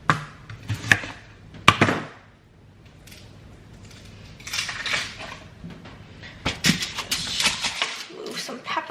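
Knife chopping three onions at home, a run of sharp irregular thuds and clatter at the start and again later, close by, with a person talking over much of it.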